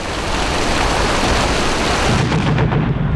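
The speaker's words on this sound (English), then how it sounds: "torrential rain now turned the battlefield into a quagmire" Torrential rain pours steadily over the Okinawa battlefield in a dense, loud roar, with a deep rumble of thunder rolling underneath toward the end.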